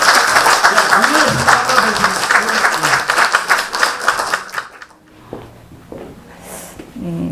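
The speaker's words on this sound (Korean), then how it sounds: "우리 배영희 원장님께 큰 박수로 맞이하면서" An audience at an evening humanities lecture gives loud applause to welcome a daycare director and essayist, a dense burst of clapping that fades out midway, followed by a quieter pause with a voice speaking.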